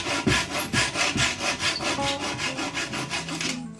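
A handsaw trimming the wooden parts of a handmade stick chair, steady rhythmic back-and-forth strokes, close and clear, about a dozen rasping passes with no talking.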